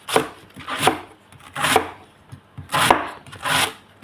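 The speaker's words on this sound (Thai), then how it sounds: "ซอยหั่นให้เขาเล็กนิดนึง" A knife chops fish scraps for duck feed steadily on a board, five firm, evenly spaced strokes with no talking.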